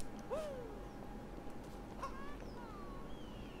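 A bird calling in Super Mario Odyssey, two short rising-and-falling whistled calls a couple of seconds apart, faint over quiet game ambience.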